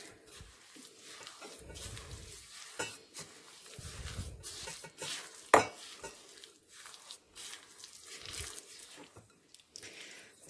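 Sugar is stirred into a no-cook cherry jam mixture in a bowl, giving soft intermittent scraping and swishing strokes with a few light clinks of utensil against the bowl, quiet and close, with no talk.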